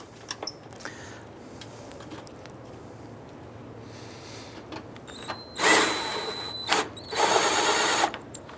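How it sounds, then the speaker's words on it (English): A power tool whirs in two short bursts as it drives a bolt into the air box of a 2004-2009 Dodge Durango, following quieter clicks and handling noises. "we're going to go ahead and install the bolt for the box here"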